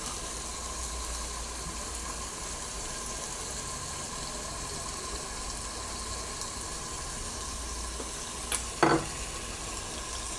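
Soy sauce and tomato sauce being stirred into chilli chicken frying in a pan, giving a steady low sizzle throughout with a brief scraping clatter of the spoon near the end; no one speaks.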